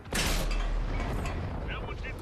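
A tank fires in the World of Tanks console game with a loud close boom that opens into a sustained rumbling roar and fades slowly, with mechanical clanks near the end.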